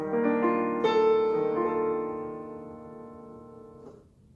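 A piano plays a rich, sustained chord with a sharp eleventh, with a second chord struck shortly after, both ringing out and slowly fading, alone and clear.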